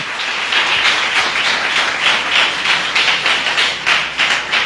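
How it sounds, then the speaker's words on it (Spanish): A church congregation applauds together, loud continuous clapping with a rhythmic pulse, close and full, with no talking over it. "Dele un aplauso al Señor."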